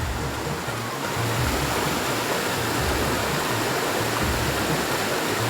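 A river flows near Tiware Gangechiwadi waterfall in Konkan, a dense, steady rushing roar that fills the whole stretch evenly with no voices.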